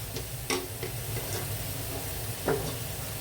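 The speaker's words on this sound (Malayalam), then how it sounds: "അത് നമുക്ക് ഒന്ന് ഇളക്കി കൊടുക്കാം." Clam meat with garam masala sizzles in a pan while a spoon stirs it, giving a steady hiss with a few distinct scraping strokes, heard alone without talk.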